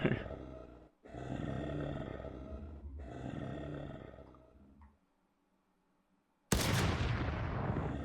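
Gunfire in a zombie video game: a few heavy sustained bursts of shooting, close and loud, broken by brief gaps and a silent pause before a final sharp burst.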